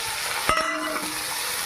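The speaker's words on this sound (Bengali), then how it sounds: "এবারে দিয়ে দেব ছাড়িয়ে রাখা শামুক" Shelled snails going into a pan of reddish fried onions, giving a steady broadband sizzle with a brief louder crackle near the middle, with no talk.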